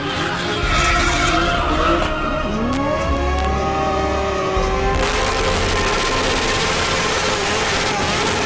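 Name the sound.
car stunt skidding during cremation procession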